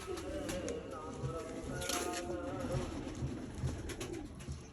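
Pigeons coo softly in repeated low murmurs, with faint chirps and background rustle, no talking.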